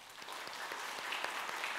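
A church congregation claps to welcome new members standing at their seats during a Sunday worship service, a soft, steady patter of many hands filling the room without pause.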